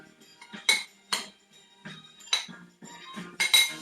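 Chopped onions are stirred in a bowl, producing a series of clinking, scraping bursts against the dish. The bursts are close and irregular, with short pauses between them.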